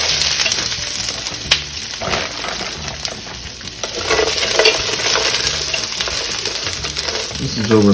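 Crispy hash browns browning in a hot pan over medium-high heat, a loud, dense, continuous crackling sizzle with occasional scraping as they are stirred.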